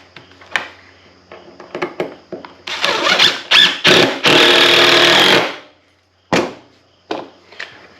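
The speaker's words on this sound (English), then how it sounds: "We'll drill a screw in here." Nearby, a power drill revs in a loud sustained burst driving a screw into lumber for a firewood rack, after some knocking and handling noises, then a few sharp clicks and taps follow.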